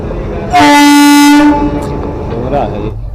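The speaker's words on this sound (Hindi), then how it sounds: "तो गाइस हमारा गाजियाबाद का वेब 7 लोकोमोटिव आ रहा है, पावर नंबर 30684।" A WAP-7 electric locomotive blasts its horn close by, a loud single long two-tone note lasting about a second, followed by rumbling rail noise as it arrives at the station.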